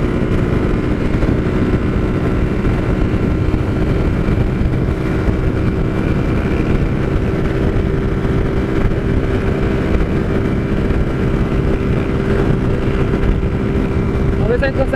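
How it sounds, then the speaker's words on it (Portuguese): A Honda Titan motorcycle is ridden with its exhaust closed, giving a steady droning engine hum with wind buffeting throughout and no letup. "Fechar aqui um pouco o escapamento pra ver se dá uma relaxada no ouvido da mulher"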